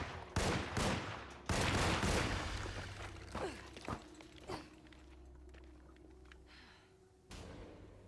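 Gunfire in the video game Alone in the Dark: several sharp shots clustered in the first two seconds, then a few scattered single shots and a final burst, with quieter ambient noise between.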